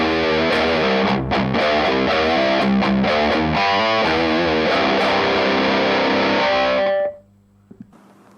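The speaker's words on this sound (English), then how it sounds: "this is my crunch sound, which is the Stone Grey distortion from my Professor." An electric guitar through a crunch distortion pedal plays a loud, crunchy chord riff for several seconds, then cuts off abruptly, leaving a brief quiet tail.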